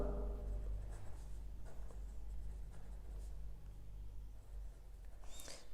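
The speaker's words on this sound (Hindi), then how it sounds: "यहाँ पे अभी हम लिखेंगे" Pen writing out a class 10 NCERT math solution by hand, a faint, continuous scratching and tapping under a low steady background hum.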